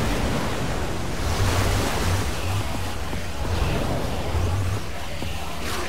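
Water gushing out in a rushing flood after a lever is pulled in the video game Minecraft: Story Mode, a loud, continuous surging roar with low rumbling swells.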